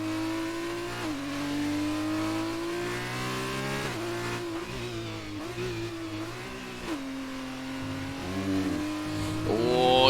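An F2 race car engine in a racing video game howls loud and close through the run, rising in pitch through the gears with sharp upshift dips and brief lifts, then climbs again at the finish with no voices.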